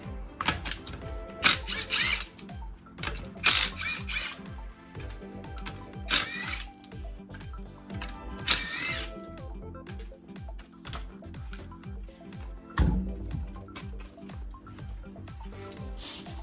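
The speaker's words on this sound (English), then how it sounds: "we're going to go ahead and just remove the rear wheel and get this process started" A power tool works on the lug nuts of a Toyota Highlander rear wheel, giving short bursts of whirring and ratcheting separated by metallic clinks, rattles and brief pauses, close by with no talk.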